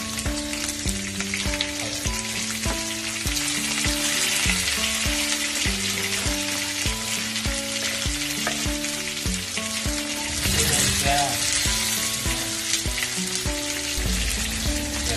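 Bangus (milkfish) frying in a pan, a loud, steady sizzle and crackle of hot oil that runs without a break while music plays over it.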